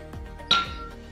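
Ice cubes drop into a glass of lemonade made with lemon sugar syrup, pepper and salt: one sharp, bright clink near the middle, framed by a few soft knocks, close and brief.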